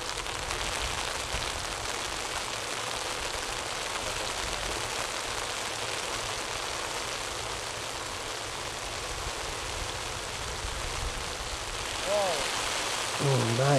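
Steady rain pours over a golf course during a cold, wet tournament round, a dense even hiss across the whole stretch with a brief low rumble near the end.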